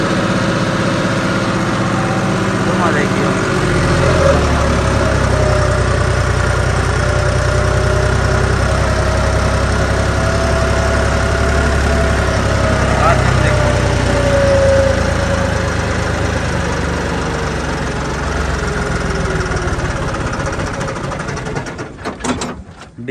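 A John Deere 5405 tractor engine runs steadily at 2000 RPM, a loud, constant diesel drone with a low throb that holds for most of the stretch before tapering off near the end.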